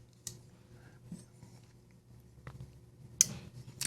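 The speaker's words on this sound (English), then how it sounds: "Let's listen to that detent." The detent of an S90V Scaphoid flipper knife gives a few sharp, crisp clicks, recorded up close against a quiet background with one louder snap near the end.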